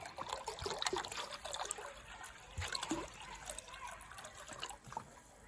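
Water trickles and splashes into a small pot set up for cooking cassava, an uneven, close pour with soft spatters that keeps going for several seconds.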